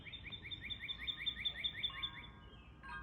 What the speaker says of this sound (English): even though you hear a lot of birds, that bird stepped up